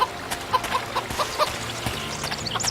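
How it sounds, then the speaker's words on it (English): Chickens cluck repeatedly in the fantasy game Zanzarah: The Hidden Portal, with short, close, uneven clucks over a soft ambient game background. "You can chase around chickens and you won't get punished for it"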